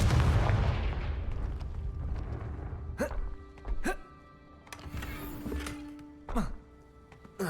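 A Confringo fire spell explodes in the Hogwarts Legacy video game: a deep, booming blast opens, then several sharp cracking bursts follow at uneven intervals, with a voice faintly present.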